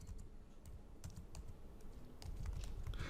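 Someone typing code on a computer keyboard, with quick irregular key clicks and taps close up and fairly quiet over a faint background hum, and no talking.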